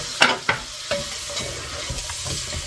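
Food frying in a pan gets stirred, with a few sharp scraping strokes over a steady sizzle, close up and with no voices.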